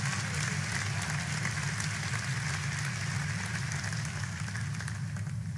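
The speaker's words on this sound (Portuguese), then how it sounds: "E mais ninguém pode dar ao Senhor uma salva de palmas." A church audience claps in a continuous, even wash of applause, quiet and somewhat distant, with a low hum beneath and no voices.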